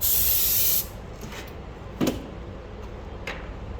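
Brake cleaner or PB Blaster sprayed onto LS engine heads and parts, one loud close hissing burst of aerosol lasting under a second, followed by faint clicks and handling noises.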